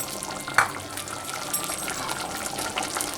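Water is poured into a pot of elephant foot yam sambar thickened with toor dal, a soft, faint splashing and trickling in a home kitchen with a brief clink near the start.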